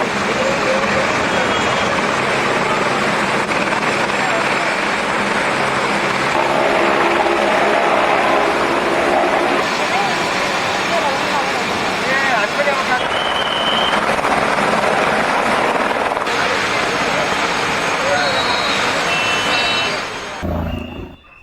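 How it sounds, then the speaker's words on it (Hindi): A loud, continuous roaring whir of a rescue helicopter flying during flash flooding in Nepal, steady and close throughout, then cutting off abruptly at the end. "इस वजह से हेलीकॉप्टर से रेस्क्यू अभियान चलाया जा रहा है"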